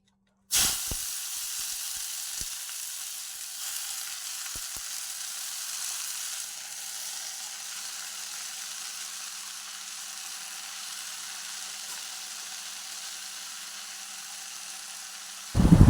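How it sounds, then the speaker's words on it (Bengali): Washed greens in hot oil in a kadai give a loud, close, continuous hiss of frying that starts abruptly and holds steady for its whole length, with no talk. "এই দেখো কড়াইয়ে তেল দিয়েছি শাক হবে এই যে শাক ধোয়া হয়ে গেছে শাকটা দিয়ে দিচ্ছি"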